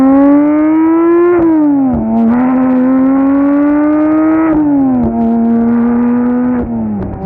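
Porsche 992 GT3 fitted with a JCR exhaust on its first motorway run, the engine droning steadily and loud, rising in pitch through the gears with several brief dips at the shifts.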